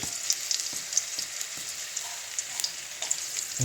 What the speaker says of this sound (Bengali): কালো জিরে দিয়ে একটু খুব ভালো করে ভেজে নিতে হবে